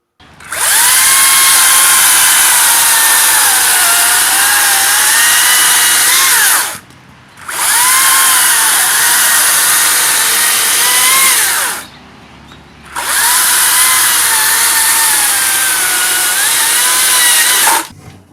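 A Makita 36V cordless chainsaw runs in three long, loud, close bursts of high electric whine, each separated by a short silent pause, with the pitch wavering slightly as it works.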